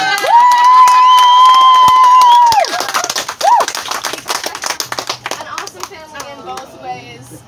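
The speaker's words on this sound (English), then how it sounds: "And this is the part where you clap because" An audience claps and cheers at a cadet and student ceremony, breaking into scattered, uneven claps and shouts after a long sustained tone, with voices mixed in.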